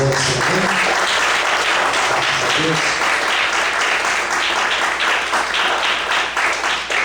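A church congregation claps steadily for the Lord, a dense, loud wash of applause that fills the room without letup, with a few brief voices at the start.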